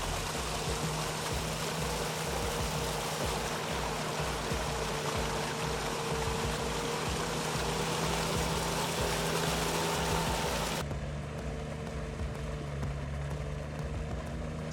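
Tinger floating all-terrain vehicle churning through a swamp quagmire, its engine droning steadily with constant sloshing and mud noise throughout, the tone thinning slightly near the end.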